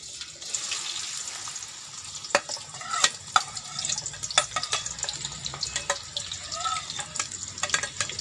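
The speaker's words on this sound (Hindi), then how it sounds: "जब घी गर्म हो जाए तो इसमें प्याज डाल दें।" Onions hitting hot ghee in a pan, a steady sizzling hiss with scattered clicks and scraping stirs, close and moderately loud, no voices.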